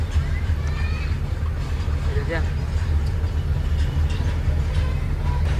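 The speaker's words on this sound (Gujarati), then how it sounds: "ટ્રેન તો ભાઈ બહુ મોટી નીકળી જાય તો પૂરી જ નથી થતી" A long train rumbles past a level crossing, its deep continuous low roar holding steady and close for the whole stretch, with voices talking faintly over it.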